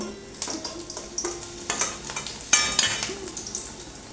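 Eggplant slices frying lightly in oil in a pan for a sesame eggplant dish, a steady soft sizzle with several spatula clinks and stirring scrapes spread through, close and moderately loud, no talking.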